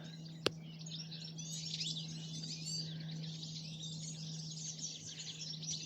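A goldfinch calls from a tree overhead, a faint, continuous twittering of high chirps over a low background hum, with one sharp click near the start.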